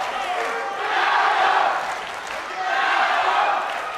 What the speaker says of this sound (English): Now people are cheering for Sun Jao.